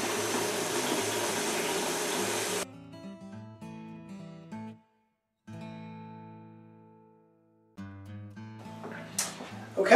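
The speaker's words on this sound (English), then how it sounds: "So cold tap water and up to your 40 pint mark." Cold tap water gushes into a homebrew beer fermenter for a Woodfordes Wherry bitter kit, a steady close rushing for about two and a half seconds before cutting off, leaving quieter tonal hum and faint clatter.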